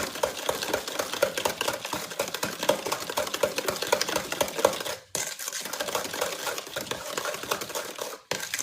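Pecan pie filling with eggs being stirred vigorously in a bowl, a dense, continuous clatter and scrape of utensil against the bowl, with two brief pauses.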